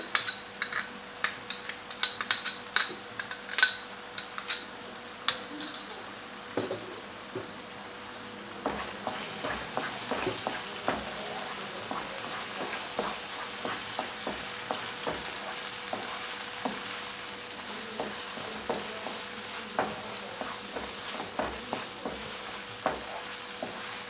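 Kofta fries in a pan with a steady soft sizzle, broken by frequent clinks and scrapes of a utensil stirring, with no talking.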